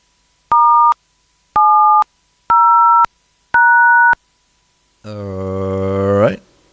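Four evenly spaced two-tone control beeps for a radio repeater sound loud and clean with short gaps, followed by a longer buzzy harmonic tone that swells and cuts off abruptly.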